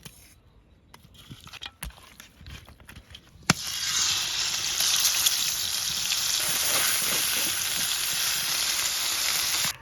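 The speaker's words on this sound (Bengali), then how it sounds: "মাছটা তৈলে বাজার লাগিয়া এখন হলুদ আর লবণ দিয়ে মাহাইলমু" Pieces of foli fish drop into hot oil in a pan. After a few faint clinks, a loud, continuous sizzling hiss starts abruptly and carries on close by until the end.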